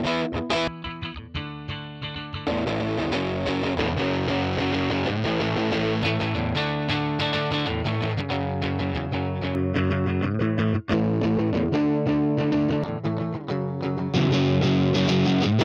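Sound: guitar amp simulator distortion

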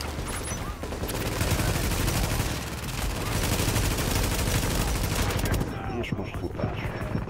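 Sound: gunfire in video game Tom Clancy's The Division

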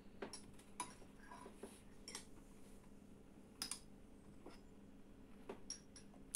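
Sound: toddler eating with a spoon from a dish

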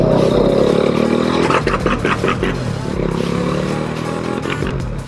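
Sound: overheating motorcycle engine running rough, like it's out of carburetion

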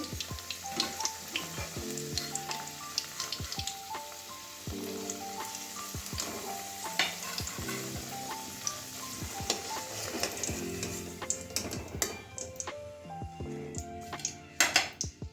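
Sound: potatoes frying in oil

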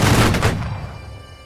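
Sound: musket volley fired by a line in video game Holdfast

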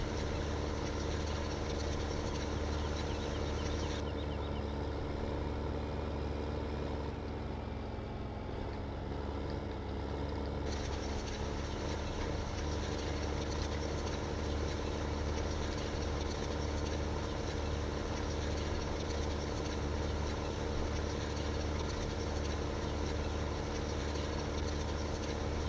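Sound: tractor engine in farming simulator video game

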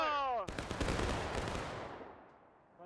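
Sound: musket volley by battalion in video game War of Rights

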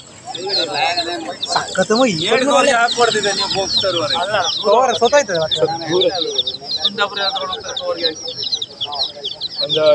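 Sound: chickens and chicks at market

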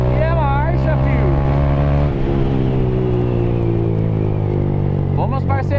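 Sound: Honda Titan 160 motorcycle with Fortuna exhaust

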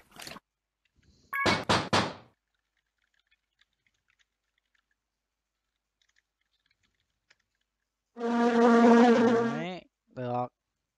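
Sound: bees buzzing around a flower bouquet in the video game Clue Hunter

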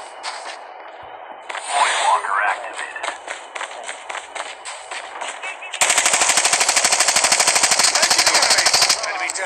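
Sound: gunfire in the video game Call of Duty Mobile

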